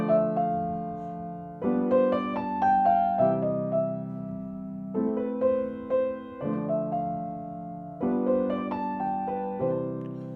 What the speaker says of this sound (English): The next step I've written out is the actual melody as Chopin wrote it, but written above the most basic root position versions of the chords